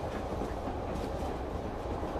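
An electric commuter train rolls along the rails, a steady low rumble with a faint rhythmic clatter from inside the carriage, continuous and fairly quiet throughout.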